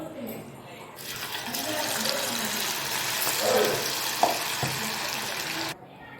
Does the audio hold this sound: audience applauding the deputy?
no